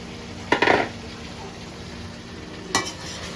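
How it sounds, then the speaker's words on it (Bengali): Fried chicken pieces tipped into a pan of softened onion and capsicum for chilli chicken, with two short clattering bursts of utensil against pan over a soft background sizzle. "এবার আমি দিয়ে দেবো চিকেন, ফ্রাই করা চিকেন।"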